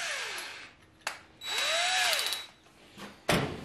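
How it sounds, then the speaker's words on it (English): A power drill whirs in short bursts while drilling through wood, spinning up and winding down, with a sharp clack of the tool between runs. "You wanna go ahead and drill through with everything in place."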